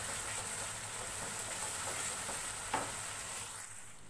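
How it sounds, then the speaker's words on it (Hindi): Chicken pieces frying in a masala base on high flame for achaari chicken, a steady dense sizzle with faint stirring scrapes and one brief sharp clink near the end, no voices. "ये देखिए मैंने चिकन डाल दिया है"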